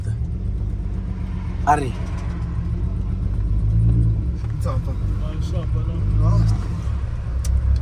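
A built Volkswagen VR6 2.8 engine on a street run rumbles deeply from a car nearby, with occasional revs swelling over the low drone while people talk in the background.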